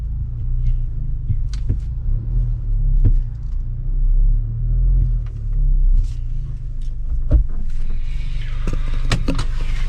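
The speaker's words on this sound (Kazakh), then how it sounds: "Ушул машинада шумка нормально экен деп айтса болот да." A newly bought car is driven on a highway, and steady low road rumble and engine drone fill the cabin throughout, with occasional faint knocks and rattles and a brief rise in hiss near the end.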